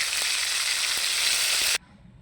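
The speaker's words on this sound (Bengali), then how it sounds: "আর কাঁচা লঙ্কা, এই কটা একসঙ্গে নেড়ে চেড়ে ভেজে নেব।" Tomatoes and green chillies fry in hot oil for eggplant bharta, a steady loud sizzle with faint stirring taps that cuts off abruptly near the end.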